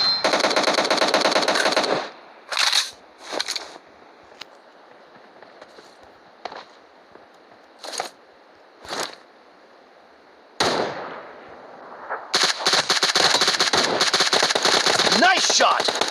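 Bursts of automatic gunfire in PUBG Mobile: rapid rattling volleys at the start, scattered single shots and short bursts in a quieter middle stretch, then sustained heavy firing to the end, with occasional voices.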